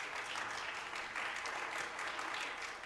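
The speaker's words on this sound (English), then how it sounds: "Clapping fades out." An audience claps at the end of a song, a dense, steady patter of many hands heard from a moderate distance, holding at an even level without any voices.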